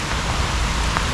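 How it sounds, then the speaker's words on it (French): Steady rain patters down during a kayak journey across Switzerland, a dense, even wash of drops hitting the water and boat surfaces close by, with no voices. "Là avec la pluie c'est quand même un petit peu moins amusant."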